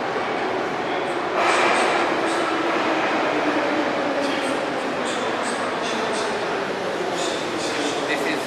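Subway train rumbling through the world's second deepest metro station, more than 80 meters underground in St. Petersburg, Russia, a steady loud roar with high squeals and clatters, voices murmuring faintly underneath.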